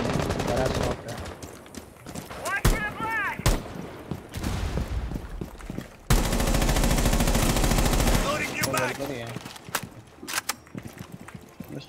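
Close-quarters gunfire in Rainbow Six Siege: sharp single shots and rapid automatic bursts, one long sustained volley in the middle, loud and near, with a player's voice mixed in between shots.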